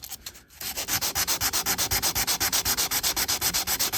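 Stainless steel trim is hand-sanded with 320 grit sandpaper in steady, rapid back-and-forth strokes, a close, loud rasping rhythm that starts after a brief pause.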